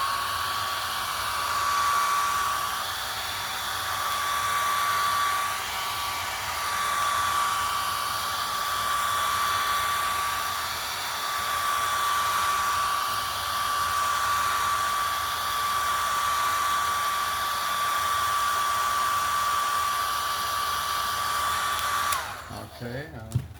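A hair dryer blows steadily on a wet painting for about twenty-two seconds, a loud continuous whirring hiss with a faint whine, then clicks off near the end with no talking.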